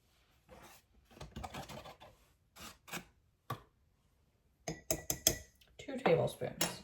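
A utensil stirs flour into sourdough starter inside a jar, giving intermittent scraping clinks against the glass in short bursts, with a denser run of clinking near the end.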